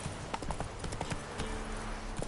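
Roach the horse galloping in The Witcher 3, a quick steady clip-clop of hoofbeats running throughout at close range over faint game ambience.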